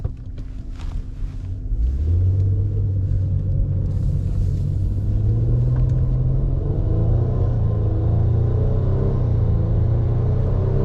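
A 2017 Nissan Altima with a CVT transmission pulls away and accelerates, its engine rumble swelling after a quiet idle into a loud, steady drone that rises smoothly in pitch, heard from inside the car.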